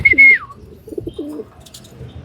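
A racing pigeon coos several times in low, rolling bursts as it enters a loft, with a short whistle-like note at the start and faint shuffling around it.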